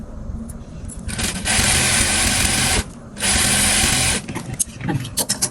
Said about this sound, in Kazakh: Алдындағы вытычкасын тігіп аламыз қазір. Мына грудной вытычкасы.